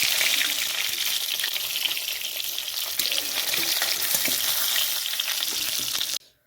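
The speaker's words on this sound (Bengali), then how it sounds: "মাছটা মোটামুটি হয়ে গেছে ভাজাটা ভালো হয়ে গেছে" Fish frying in oil in a village kitchen, a close, bright continuous sizzle with scattered pops and stirring scrapes, cutting off abruptly near the end.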